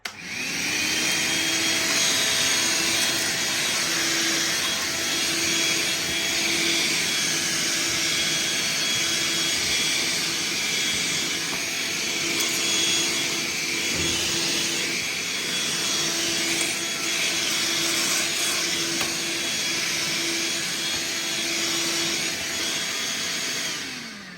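An Electrolux Superbroom cordless stick vacuum cleaner whirs continuously on a hard floor at a steady pitch, a constant motor drone with a high whine, running alone for the whole stretch.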